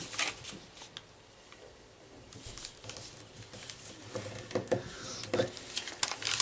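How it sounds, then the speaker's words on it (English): Paper being folded and creased for an origami gift box that locks closed, with soft crinkles and scattered rustling taps that grow busier toward the end, close by and fairly quiet with no talking. "we're going to take this corner and fold it to the middle"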